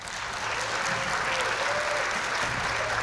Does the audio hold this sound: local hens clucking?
no